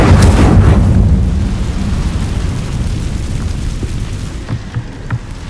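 A fire spell cast in the video game Hogwarts Legacy bursts out as a loud, booming whoosh at the start, then fades into a long rumbling roar, with a few small pops near the end.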